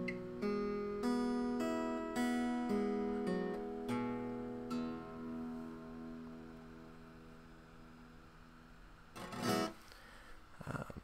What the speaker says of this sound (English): First chord is an E. It's a variation on an E,